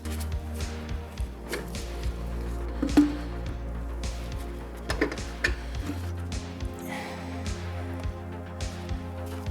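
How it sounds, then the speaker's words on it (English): Brake fluid draining from a brake line on a 1JZ MK3 Supra, faint scattered drips and small ticks at an irregular pace over a low steady hum. "just let all the fluid drain"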